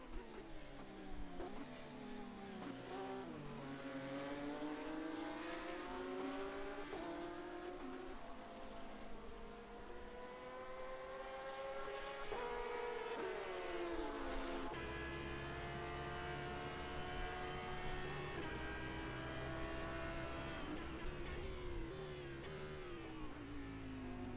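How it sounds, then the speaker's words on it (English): An Audi GT race car in rFactor 2 at Sepang, its engine wailing high through the revs, then dropping in pitch as it brakes for the first turn, with other cars droning close behind throughout. "Paul Holt really using every single rev available in that Audi as he tries to get it braked and slowed down for turn 1"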